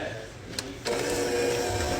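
Electric mixer starting up to blend powdered sugar, vanilla and cream cheese for a strawberry pie, a steady whirring motor hum after a brief click.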